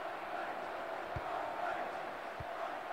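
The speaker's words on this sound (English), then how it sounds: "The crowd enjoyed that as much as the keeper did, I think." Stadium crowd from the 1998 PC football game FIFA 99 keeps up a steady, dense roar throughout, with two brief low thumps partway through.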